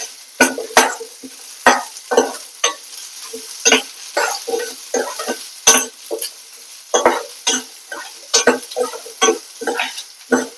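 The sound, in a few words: small onions frying in a pan for urad dal chutney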